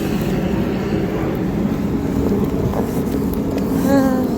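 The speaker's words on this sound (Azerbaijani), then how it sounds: "Samolyot uçur, nə yaxından uçur." A low-flying airplane passing overhead outdoors in rainy weather, a steady loud rumbling drone holding for the whole stretch, with a faint rising whine near the end.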